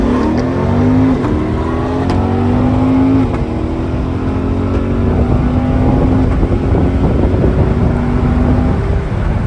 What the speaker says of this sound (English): That was our first run down the drag strip.